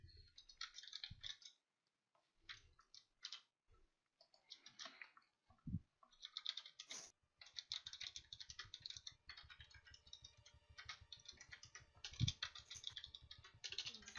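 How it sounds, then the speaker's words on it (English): Rapid bursts of typing on a computer keyboard, clicks coming in uneven clusters separated by brief pauses, close and fairly quiet. "That's a lot of typing."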